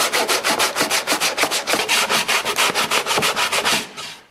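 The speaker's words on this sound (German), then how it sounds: "80er Schleifpapier, ja, und auf geht's" Hand sanding wood with 80-grit sandpaper in quick, even strokes, about four or five per second, close up, with a final stroke trailing off.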